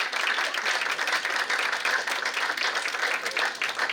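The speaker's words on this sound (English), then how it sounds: "Please give her a round of applause" A breakfast audience at a Black History celebration gives a round of applause, dense and steady clapping from many hands filling the room evenly at moderate volume throughout.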